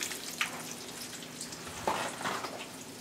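Eggplant slices fry in a pan for eggplant parmesan, giving a steady close sizzle with small crackles and pops throughout and no talk.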